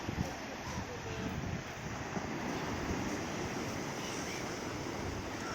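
Sea waves rolling in a steady, broad wash of surf with wind noise buffeting the microphone, with no clear speech.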